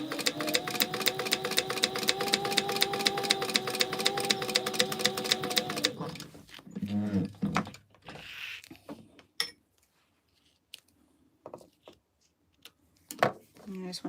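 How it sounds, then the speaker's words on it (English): A sewing machine runs an eighth-inch top stitch with back stitching across a fabric gingerbread house gift holder. Rapid, even stitching lasts about six seconds, then stops, leaving faint handling sounds and brief quiet. "now I'm just going to do 1/8 of an inch top stitch across the top there"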